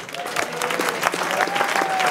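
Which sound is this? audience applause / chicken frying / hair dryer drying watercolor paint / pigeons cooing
audience applause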